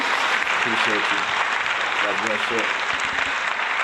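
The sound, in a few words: applause from podcast audience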